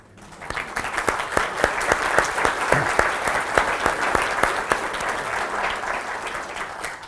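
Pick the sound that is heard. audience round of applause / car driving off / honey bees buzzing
audience round of applause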